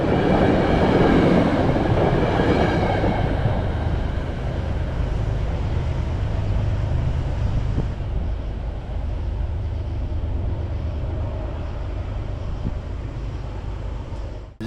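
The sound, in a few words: freight train 1894 departing Merit 7 station northbound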